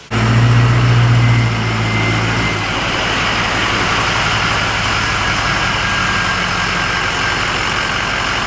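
A 6.0 Powerstroke diesel engine in a 2005 Ford F350 truck runs loud and close, with a brief rise in revs at the start and then a steady, heavy, rumbling idle with turbo whine.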